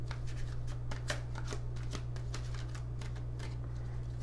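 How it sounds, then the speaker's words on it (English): A deck of tarot cards is shuffled, quick papery riffles and flicks in a rapid irregular burst, close and crisp over a steady low electrical hum. "Let's give it a good shuffle."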